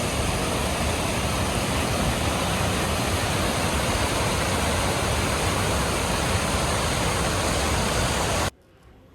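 Steady, loud rush of water flowing at a municipal dam reservoir that supplies the town of Lagoa Formosa, a continuous broadband roar heard up close without voices, cutting off abruptly just before the end.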